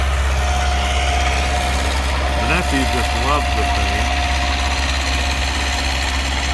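A small tractor engine idles steadily nearby with a constant low rumble and vibration, while someone speaks briefly over it partway through.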